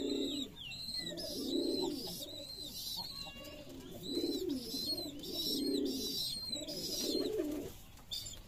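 Rajshahi Giribaj pigeons coo repeatedly in soft, throaty bursts, several birds calling over one another nearby, with a few faint chirps in between.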